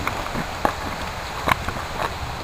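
Heavy rain falls outdoors in a steady wash, with a few sharper drips and taps standing out nearby.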